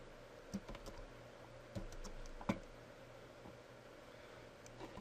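A computer keyboard being typed on while entering text in After Effects: a few sparse, quiet keystroke clicks spread over a hushed room background.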